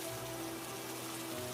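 Steady rain falling, a continuous soft hiss of drops with a faint trickling quality, even and unbroken with no voices.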